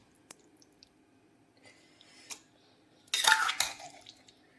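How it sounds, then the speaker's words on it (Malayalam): A cheenachatti wok is washed in a home kitchen: light metallic clinks and drips, then a loud burst of running, splashing water against the pan near the end. "ഈ ചീനച്ചട്ടി കഴുകിയെടുക്കണം"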